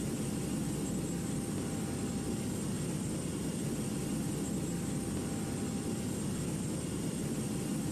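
Airliner jet engines roar steadily during takeoff in a flight simulator game, a dense, even, loud rush with a faint high whine that holds unchanged from start to finish.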